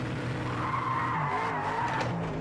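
Ford Mustang RTR drifting in the racing game Project Cars 2, a steady loud engine drone with continuous tire squeal and skidding that wavers in pitch throughout, with no talking.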